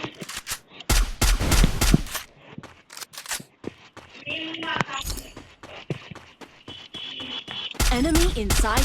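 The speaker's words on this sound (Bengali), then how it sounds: "আলামিন, গুলি করো না বাবা, তুমি গুলি করো না" Rapid bursts of gunfire from the video game Free Fire, with sharp shots in clusters and fast volleys alongside game effects and some speech.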